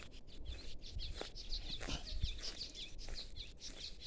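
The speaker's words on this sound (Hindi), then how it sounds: "ये सुनो, चिड़ियों की आवाज़ सुनो" Small birds chirp and call in a pine forest where trees were recently felled, repeated bright tweets near and far over soft rustling and faint low noise.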